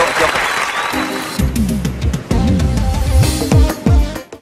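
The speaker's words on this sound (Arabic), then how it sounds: "تصفيقة عليه تصفيقة عليه" A burst of applause fades out and gives way to talking voices, with a few more claps scattered among the chatter in a lively group setting.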